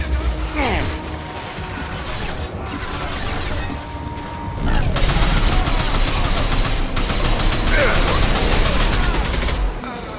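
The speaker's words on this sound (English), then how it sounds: "Taking heavy fire!" Heavy, continuous gunfire and mechanical clatter in the sci-fi shooter Mass Effect 2 Legendary Edition, during a fight on the prison ship Purgatory. The firing is loud and dense, swells after a few seconds, and runs under game voices throughout.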